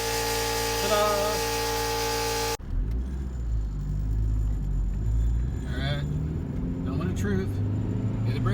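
A 1996 Ford Contour, freshly fitted with new brake pads and rotors, rolls off with a low steady engine and road rumble after a brief opening burst, with faint voices underneath.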